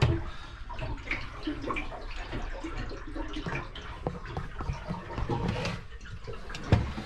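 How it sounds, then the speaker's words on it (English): Water gently laps and sloshes against a Jeanneau Merry Fisher 895 Offshore boat hull, heard from below deck in a steady, close wash, with a few louder splashes rising now and then. "I just hear the water lapping against the side."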